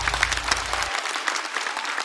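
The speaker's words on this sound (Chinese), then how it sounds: "再次掌声送给2位。" A studio audience at a Chinese stand-up comedy show claps steadily in a dense, close burst of applause lasting about two seconds, with no talking over it.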